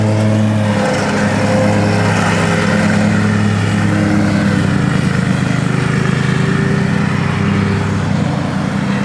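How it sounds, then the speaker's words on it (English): Lawn mower engine running as grass is cut, a loud steady motor roar that holds throughout with a slight rise early on, no talking. "He cutting the grass."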